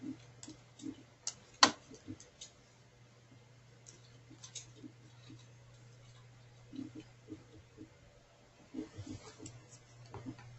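Sparse mouse clicks on a form app's Submit button, single taps scattered across a quiet room with a steady low hum, one sharper click standing out early on.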